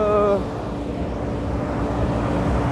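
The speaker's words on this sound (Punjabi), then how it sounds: "ਲਗਾਤਾਰ ਟਰੈਕਟਰਾਂ ਦਾ ਜੋ ਕਾਫਲਾ ਹੈ ਲਗਾਤਾਰ ਚੱਲ ਰਿਹਾਗਾ" A steady convoy of tractors rolls by at a farmers' tractor march at the Tikri border, making a continuous low engine rumble. Wind buffets the microphone, and a voice is briefly heard at the start.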